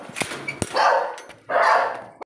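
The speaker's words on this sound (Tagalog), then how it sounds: "Ang ingay ng dog." A dog gives two loud, close barks in quick succession, each a harsh burst with a short gap between, heard alone without talk.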